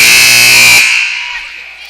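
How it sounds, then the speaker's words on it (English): Loud basketball scoreboard buzzer at a junior varsity girls' game, sounding close by in a gym as one steady blare for under a second, then cutting off and ringing out into the hall's reverberation. "we have the scoreboard directly behind us. So every time that buzzer goes off, you guys will hear it."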